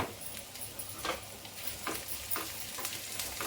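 Pepper and turmeric powder frying in oil for pongal, a faint soft sizzle with light stirring scrapes at irregular intervals.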